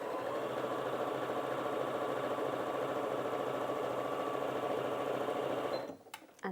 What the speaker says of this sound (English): it will stop sewing and do the 3 stitches on the spot